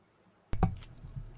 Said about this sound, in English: I'm typing it down here.